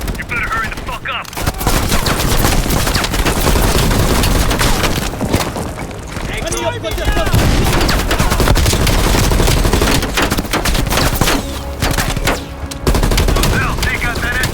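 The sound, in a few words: heavy machine gun fire in the video game Call of Duty Black Ops Cold War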